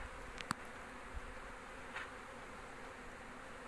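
Honeybees buzz faintly around a hive while being fed a fat-free soya-flour cake, a low steady drone with a couple of brief closer passes over quiet outdoor ambience.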